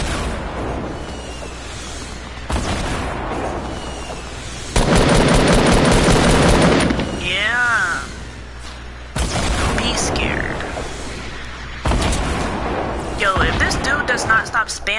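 Rocket launcher blasts and gunfire in the Fortnite video game, loud bursts of rapid automatic fire and booming explosions in quick succession, with players talking over the action.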